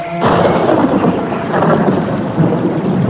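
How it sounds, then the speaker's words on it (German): A mountain thunderstorm fills the air with steady heavy rain and rolling thunder, a dense continuous roar with no pauses and no voices. "dass der Sturm, der sich da so bedrohlich zusammenbraute, den Tieren sehr viel Angst machte"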